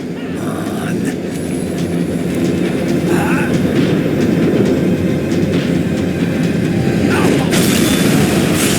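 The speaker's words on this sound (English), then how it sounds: "tram was slowing down, and I'd only just gotten on board." A tram in the Max Payne 3 video game rumbling along, with a loud continuous rolling roar, rattling wheels and occasional clanks and thuds layered on top.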